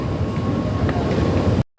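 Steady rumbling hum inside a moving Dubai Metro carriage, with a dense low roar of wheels and ventilation, then a brief abrupt cut to silence.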